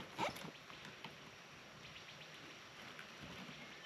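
Rain falls steadily at a campsite deep in the Ozarks, a soft, faint hiss with scattered drops and one brief louder patter at the start.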